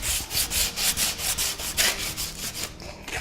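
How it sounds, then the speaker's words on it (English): Rhythmic back-and-forth rasping of sandpaper rubbing on wood by hand, with the grain, about two strokes per second, close and fairly quiet with no speech. "When you are sanding, it's always best to go with the grain of the wood."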